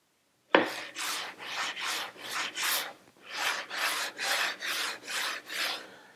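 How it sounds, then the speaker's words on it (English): A guitar fretboard being sanded with a radius sanding block: about a dozen rhythmic, raspy back-and-forth strokes, close and clear with short gaps between them, and no voices. "I'm just constantly changing how this piece is being sanded"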